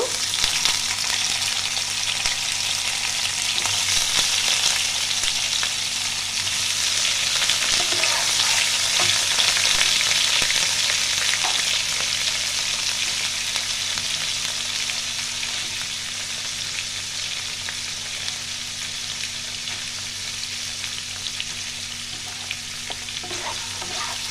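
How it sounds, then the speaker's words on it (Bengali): Paneer cubes frying in hot oil for a Bengali-style niramish paneer masala, a steady, close, full sizzle that holds for the whole stretch with occasional light stirring scrapes and no voices. "আমি এই তেলে এবার পনিরগুলো ভেজে নেব।"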